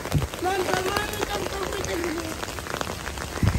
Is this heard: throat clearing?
no